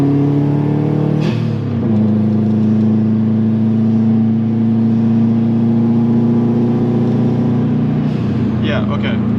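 Straight-piped Subaru WRX exhaust droning steadily under hard acceleration, a loud continuous low engine hum with a brief pitch shift near the start, heard from inside the car.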